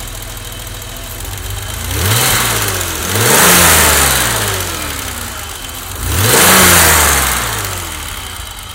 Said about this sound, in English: You gotta love an engine where you can actually, like, hear the injectors and everything.